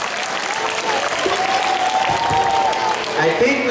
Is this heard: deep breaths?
no